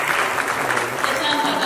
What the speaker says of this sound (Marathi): एकदा जोरदार टाळ्या पाहिजे।